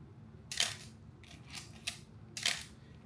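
Minolta XD5 film camera shutter firing, three sharp, bright mechanical clicks spaced about a second apart, close and isolated against a quiet background.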